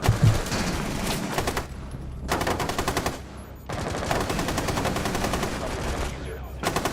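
Gunfire in a multiplayer shooter, heard as loud, dense bursts of rapid shots separated by short gaps, with rattling reports and a thumping low end, up close.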